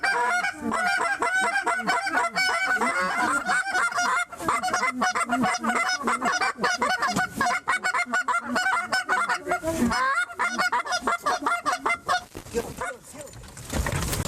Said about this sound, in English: Uh-oh, more geese. More geese.